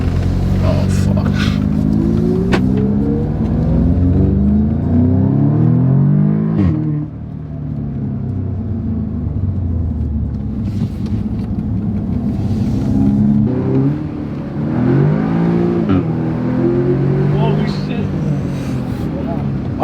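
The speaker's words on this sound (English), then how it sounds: "the Audi S3, this car will get you from 0 to 100 in just under 5 seconds" An Audi S3 accelerates hard, its engine note climbing and falling through repeated revving sweeps, loud and close, with people talking over it throughout.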